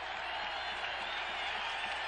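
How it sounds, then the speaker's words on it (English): A stadium crowd at a 1978 Bears–Packers NFL game in Green Bay applauds the Packers' defense, a steady distant wash of clapping and cheering. "the crowd applauding the defensive work of the Packers"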